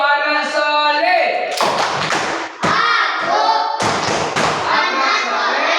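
Children clapping the Tepuk Anak Soleh chant, a loud, close series of sharp rhythmic claps in bursts with chanting voices running through and between them.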